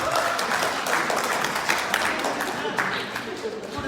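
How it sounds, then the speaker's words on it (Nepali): Audience applause for a community member at a live Nepali concert in Lubbock, Texas, a dense, steady wash of clapping filling the hall throughout with crowd noise mixed in. "उहाँको लागि एकचोटि ताली बजाइदिनु होला"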